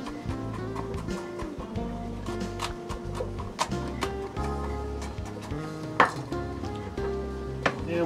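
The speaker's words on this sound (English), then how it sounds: "First thing I'm going to do is cut up my garlic." A knife repeatedly striking a cutting board while chopping garlic for cabbage rolls, producing sharp irregular taps over a low background hum, moderately close but fairly quiet.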